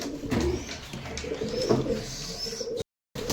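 Pigeons coo in a loft, a steady chorus of low, throaty calls layered close together with faint chirps, broken briefly by a moment of silence near the end.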